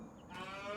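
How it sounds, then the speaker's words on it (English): Cattle on a farm mooing: a faint low call that swells into a louder, drawn-out moo with a clear tonal quality, heard alone without talk. "Cows are screaming."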